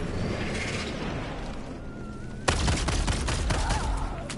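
Rapid automatic gunfire in the video game Helldivers 2, a dense burst that starts abruptly and rattles on loudly, with a sustained crackling roar and no talking.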